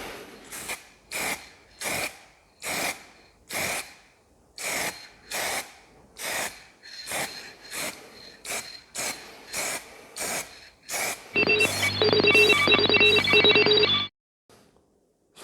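Rattle-can spray paint on a car body, a series of about a dozen short hissing bursts in steady rhythm, close and fairly loud, followed by a longer continuous spray lasting a few seconds before cutting off.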